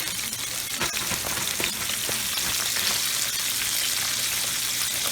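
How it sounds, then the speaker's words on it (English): Steady, close sizzling and crackling of chicken frying in hot oil in a pan, continuous throughout with scattered pops. "I just go ahead and fry mine the way you see me frying it now"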